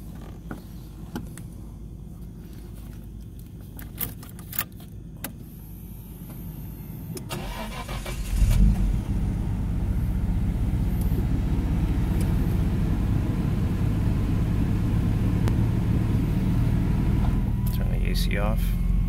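A 1990 Nissan Skyline GT-R with its 2,568 cc engine, already warm, cranks and fires at about eight seconds after quiet clicks and rustling, then settles into a steady, loud, rumbling idle that continues to the end.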